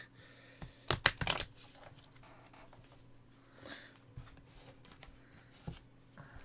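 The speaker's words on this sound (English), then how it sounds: "I'm gonna do the special shuffling for you, my good sir. I'm gonna cut 1/2 of the deck" A tarot deck is shuffled and cut, giving a quick burst of riffling card flutter followed by softer taps and shuffles, faint and close, with no speech.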